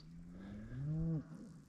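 A single cow moos at a pasture fence, one rising then falling drawn-out call, near and fairly loud against quiet open-air background.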